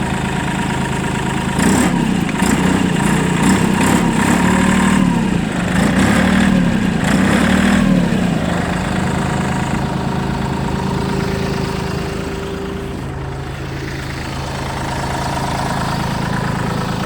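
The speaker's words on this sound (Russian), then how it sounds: "Трактор работает." A Mitsubishi MT205 4WD tractor's engine idles steadily and close by, with a brief rise in revs early on before settling back into an even, rhythmic chug, no talking over it.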